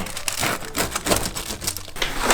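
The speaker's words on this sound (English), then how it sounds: "you want to cut the pizza right away" A vegan breakfast pizza is sliced with rapid crunchy cutting strokes, irregular crackling bursts close up with no voices.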